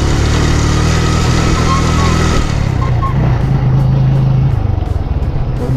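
A motorcycle engine runs loud and close on a narrow path, a steady rumbling drone that shifts in pitch partway through.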